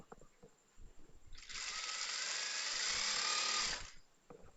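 A sewing machine stitches a churidar in one continuous buzzing run of about two and a half seconds, close and clear, with quiet moments before and after.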